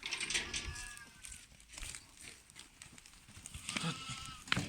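Goats and sheep bleat in a flock of about thirty being fed barley on a farm at lambing time, with several overlapping calls over a steady background of shuffling and rustling.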